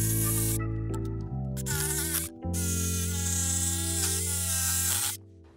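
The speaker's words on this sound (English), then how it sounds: "You can get those cut with the jigsaw." A jigsaw cuts wood pieces for a kids' mud kitchen with a loud, steady buzzing whine whose pitch shifts as the blade works. The sound stops abruptly near the end.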